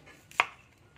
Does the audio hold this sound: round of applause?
no